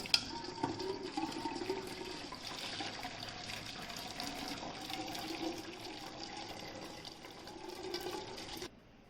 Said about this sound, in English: slowly pour the horse gram water into the strainer